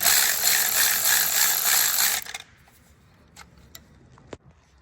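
A ratchet tightens spark plugs on a VW/Audi 1.4 TSI engine, giving about two seconds of rapid, close clicking that stops abruptly, followed by a few faint metallic clinks in near silence.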